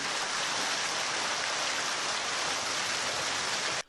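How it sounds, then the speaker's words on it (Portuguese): Dense, continuous pattering of hail striking a roof, a steady hiss-like clatter that stays loud and even before stopping abruptly. "este morador também registrou o granizo caindo sobre a casa dele"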